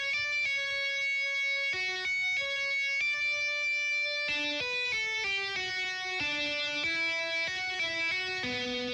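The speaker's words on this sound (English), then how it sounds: "This is what the lead sounds like. Dirty amped 56." Synth lead, preset Dirty amped 56 in the Expand plugin for an FL Studio beat, playing a gritty, buzzy melody of held tones then quicker stepping notes, bright and continuous at steady loudness, alone without speech.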